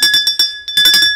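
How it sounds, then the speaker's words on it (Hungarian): A hand-rung school bell cast from brass clangs in rapid, uneven strokes, each hit leaving a bright, sustained metallic ring, loud and close. "Nálunk minden nap ezt a kolompot hallják, sárga részből öntve"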